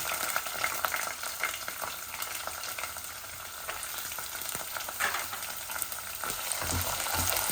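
Garlic and onions fry in hot oil in a pan, a steady close crackling sizzle with occasional stirring clinks throughout, no voices.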